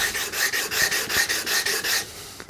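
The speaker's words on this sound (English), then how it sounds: "just going to go back to that sanding board we've got" Close, steady back-and-forth rasping of cedar being sanded on a sanding board, about eight even strokes, then it stops.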